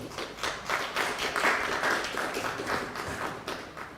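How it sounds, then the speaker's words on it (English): An audience at a college graduation ceremony applauds a speaker, with soft, distant and fairly dense clapping plus a few taps and thuds, sustained for about four seconds at a low level. "Please give her a round of applause again."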